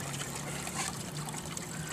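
Water trickling and running through a gold concentrator sluice, a steady, even wash of flowing water with no breaks, fairly loud and close, with no talking.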